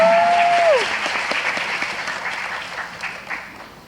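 Applause from an audience for a film's director and crew at a screening event, a loud full clapping burst that slowly thins and fades, with a brief voice at the start.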